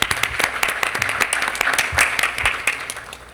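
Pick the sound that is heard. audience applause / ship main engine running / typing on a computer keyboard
audience applause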